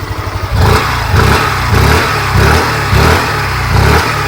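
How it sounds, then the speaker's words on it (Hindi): A 2023 Hero Destini Prime 125 scooter engine idles with a throaty exhaust, then revs up in repeated bursts, rising and falling several times up close. "हीरो डेस्टिनी प्राइम स्कूटर के एग्जॉस्ट की वापस सुना देता हूँ आपको।"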